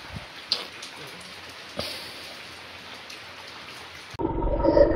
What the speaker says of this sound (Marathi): मध्येच जास्त पडतोय आणि मग रिमझिम स्टॉप होतच नाही